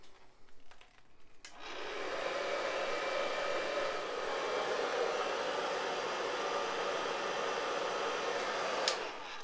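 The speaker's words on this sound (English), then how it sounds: "I will cool shot that so the cool air will set the root lift." A hair dryer fitted with a diffuser blows on its cool-shot setting over wavy silver hair. The airflow kicks in after a brief moment, then holds as a steady, even whoosh with nothing else over it.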